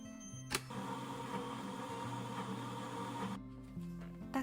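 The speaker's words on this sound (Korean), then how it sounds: "마지막으로 마늘 5알과 견과류를 넣고 갈아줍니다." An electric blender grinds five garlic cloves with nuts, soy sauce and sesame oil: a steady, close motor whir with a sharp start, which cuts off after a few seconds.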